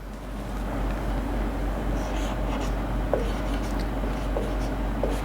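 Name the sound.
writing a definition on a board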